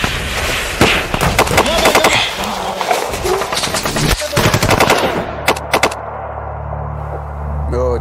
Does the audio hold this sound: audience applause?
no